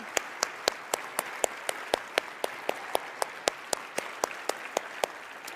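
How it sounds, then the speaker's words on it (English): Applause for grant recipients on stage at the eBay Open seller event: a steady run of sharp, evenly spaced claps, fairly quiet and moderately distant, with no talk over them. "Let's give this group a huge round of applause."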